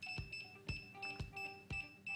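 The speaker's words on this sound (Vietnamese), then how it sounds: "Lúc này tay điều khiển sẽ kêu bíp bíp liên tục" A DJI Mavic Pro remote controller beeps continuously, a quiet, regular series of short electronic tones repeating about twice a second with no talking.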